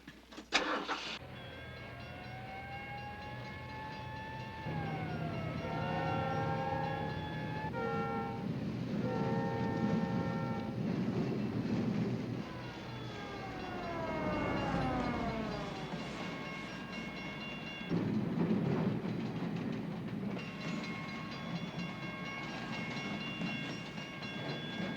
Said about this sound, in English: The longest freight train I've ever seen in my life.